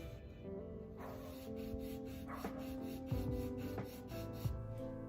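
Steady, faint rubbing and rasping of sandpaper sanding varnish off a wooden door, continuous with small scraping strokes and no voices.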